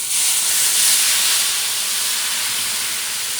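About half a cup of white wine hitting a hot pan of wild boar picadillo with rice, letting off a loud, steady, bright hiss and sizzle that holds for several seconds and fades slightly, with no voices.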